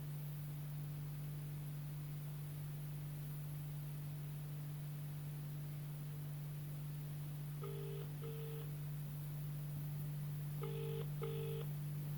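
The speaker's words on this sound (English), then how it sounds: "I'll ring my mother's phone number." Faint static and a low steady hum, then two pairs of short electronic ring tones, like a phone line ringing out.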